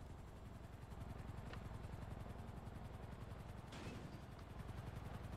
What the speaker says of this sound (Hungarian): Helikoptert hallottam.